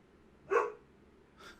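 Indoors, a dog gives a single short bark, fairly close, followed about a second later by a fainter second yip or bark.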